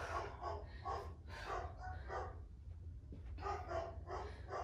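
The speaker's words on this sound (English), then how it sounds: "Oh, here go the dogs." Dogs bark repeatedly in the background during a dumbbell circuit workout, a steady run of faint, muffled barks over a low rumbling hum.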